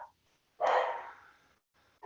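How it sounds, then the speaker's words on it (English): A dog gives one sharp bark nearby in the background of an indoor space, with a faint hint of another at the very start and end. "Dog here."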